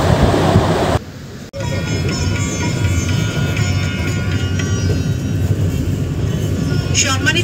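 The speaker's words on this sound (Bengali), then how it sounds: "গফরগাঁও রেল স্টেশনে আমাদের ট্রেনের সাথে ক্রসিং হলো ব্রহ্মপুত্র এক্সপ্রেসের।" The Brahmaputra Express passes another train at Gafargaon railway station with a continuous loud rumble of rolling wheels and carriages. A brief sharp clack breaks the sound early on, and a voice is heard faintly under the din.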